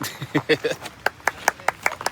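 After a brief stretch of talk, someone claps hands in welcome during a monsoon trip to Bandage Falls, giving about six sharp, evenly spaced claps at close range.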